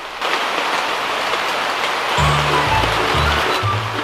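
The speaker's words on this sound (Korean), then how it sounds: "비가 많이 오고 있어요. 소나기가." Heavy summer rain shower falling outdoors during a seaside cookout, a steady broadband hiss of rain on surfaces throughout, with low thumping handling noises in the second half and no talk.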